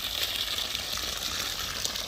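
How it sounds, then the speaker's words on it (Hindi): Water running from a hose pipe in a kitchen garden among tomato plants, a steady close hiss and gush with no talking. "पानी चला रखा है हमने किचन गार्डन में, अपने चाचा जी पाइप से पानी दे रहे हैं।"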